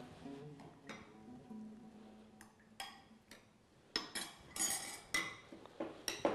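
A utensil scrapes and clinks against a bowl while mixing pistachio dough, giving soft irregular taps and knocks that grow louder and busier toward the end, close and without talk.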